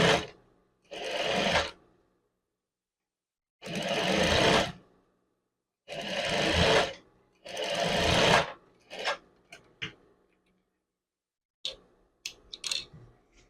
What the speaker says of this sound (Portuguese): então eu vou pespontar esse lado aqui.